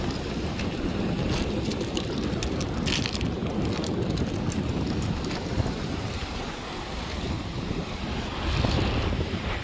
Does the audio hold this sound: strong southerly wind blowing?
yes